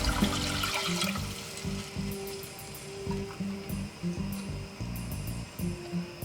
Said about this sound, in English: Then let's put some water.